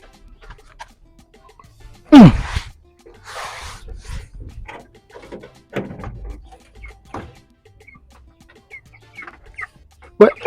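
Domestic fowl clucking in a yard, a loud squawk near the start followed by scattered short clucks and soft rustling, with quiet gaps between the calls.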